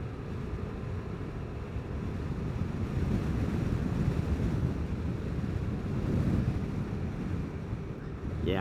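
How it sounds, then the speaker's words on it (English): Wind buffeting the rider on a morning Vespa GTS 300 Super Sport scooter ride, a steady loud low rushing roar with slight swells, continuous throughout and close to the microphone. "I'm thankful for my wind keeping me cool this morning."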